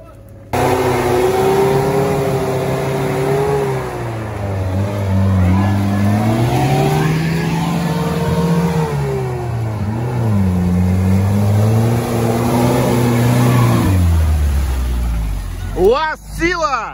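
A turbocharged UAZ off-road vehicle revs hard along a difficult route, its engine pitch rising and falling in long loud sweeps before dropping away near the end, with voices talking over it.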